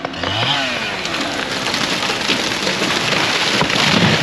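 A huge tree is felled in the Jemez mountains, crashing down through branches with a dense, loud rushing and crackling roar that continues throughout.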